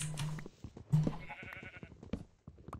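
Sheep bleating in the Minecraft video game, several short nasal bleats spaced across a quiet background among faint soft game clicks and footsteps.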